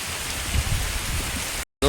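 Heavy rain pours down in Rajavadar village, a dense, loud, continuous hiss of water on surfaces that ends abruptly near the close.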